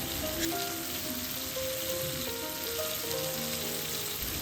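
Shrimp with turmeric, red chili and coriander powder stirred and fried in a pan, giving a steady, fairly quiet crackling sizzle throughout with faint tonal background underneath.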